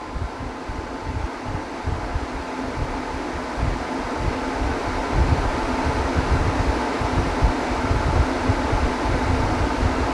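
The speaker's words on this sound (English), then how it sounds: "So we're at about 64 decibels at fan speed 10." A Dyson Hot + Cool fan running at its top speed of 10 gives a steady, fairly loud airy whoosh with a low rumble, constant throughout with no voices.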